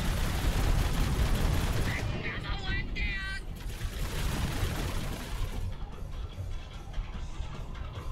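Heavy cannon fire in the Warhammer 40000: Dakka Squadron flight game, a dense rumbling barrage of gunfire running loud and continuous throughout, with combat noise and engine roar mixed in.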